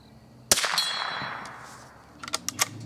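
A sharp shot from a Winchester Model 69A rifle rings off a metal target with a lingering metallic clang, followed by a few fainter quick cracks and pings.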